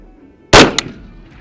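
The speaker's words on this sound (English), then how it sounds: "Let's try shooting our square right down here." A single sharp, loud rifle shot cracks close by during zeroing of an AGM thermal scope, followed by a quick echo and a short decaying rumble.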